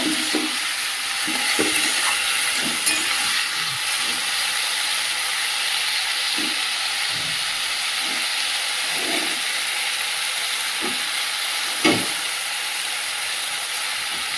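Shrimp and boiled vegetables being stir-fried in a pan, a steady sizzling hiss with occasional soft scrapes and knocks of the spatula stirring, close and continuous with no talk.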